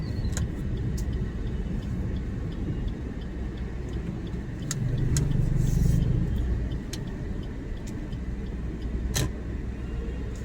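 A car's engine rumbles steadily at close range as it drives along a street in New Bhopal and pulls in to park near a shop, with a brief swell of louder traffic noise midway.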